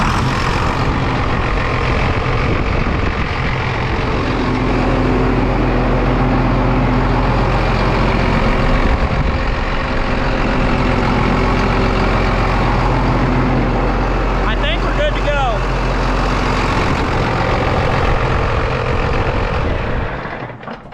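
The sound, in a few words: old John Deere tractor engine started and running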